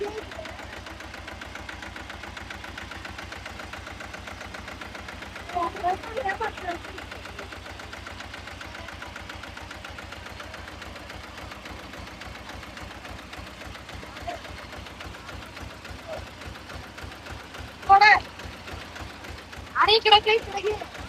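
A tractor engine idling steadily with a low, even chugging throb throughout, close and continuous, while a few voices speak briefly over it.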